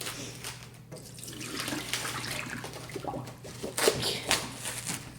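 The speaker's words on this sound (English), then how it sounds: "Now before you put those in, Chris, I'm gonna dump out some of your water because you're full." Water poured out of a full cooking pot while making chicken cacciatore, a steady splashing gush with a few louder pours near the end.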